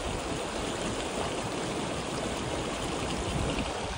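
A mountain stream in Ladakh rushes steadily, a dense, unbroken flow of water heard up close and filling the whole clip, with no talk over it.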